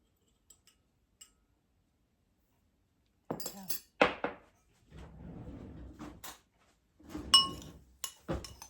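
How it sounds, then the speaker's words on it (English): Dried onion soup mix and Italian seasoning with parsley stirred together in a container, starting with a few faint ticks, then a run of close clinks and a scraping, rustling mix with gaps of near silence. "Mix it all together so everything is evenly distributed."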